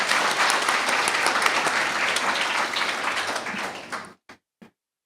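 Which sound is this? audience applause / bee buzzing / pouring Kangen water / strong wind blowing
audience applause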